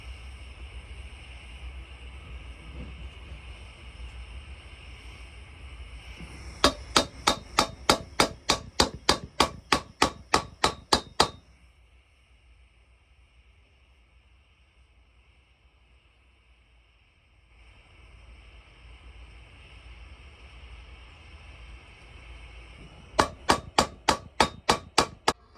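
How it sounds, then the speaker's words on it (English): A big hammer pounds red-hot metal in a quick, regular run of about a dozen ringing strikes, then goes quiet. A second short burst of blows comes near the end, over a steady mechanical hum. "you get metal red hot, it's very easy to move it with a big hammer."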